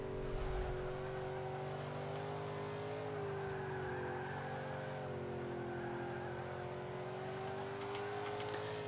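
An Ultima GTR race car in the Forza 5 racing game, R class, holds a steady, loud engine drone with slight pitch shifts as the throttle is worked, running continuously throughout.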